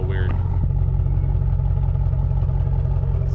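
A 2007 Chevrolet Avalanche Z71 with a 5.3L V8 and the muffler deleted idles with a steady, deep, loud exhaust rumble and throbbing low pulses, constant throughout, with no voices.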